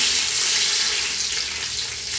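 Hot oil poured over layered onions and mint for a chicken dum biryani, giving a loud, continuous hiss and sizzle that stays steady throughout.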